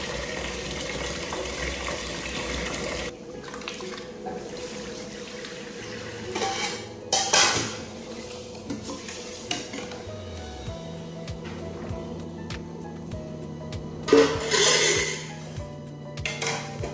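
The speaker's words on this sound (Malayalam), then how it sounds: "വെള്ളം ഒന്ന് ചൂടായി വരുമ്പോഴത്തേക്ക് പാത്രങ്ങളൊക്കെ ഒന്ന് കഴുകി വെക്കട്ടെ" Pots and dishes washed at a kitchen sink, with running tap water splashing steadily and occasional clinks and clatters of crockery, fairly close and without talk.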